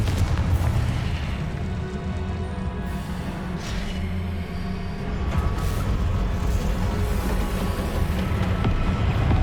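Confringo blasting spell from the Hogwarts Legacy video game, a dense, loud rumbling boom with layered bursts and a sustained roar lasting the whole stretch.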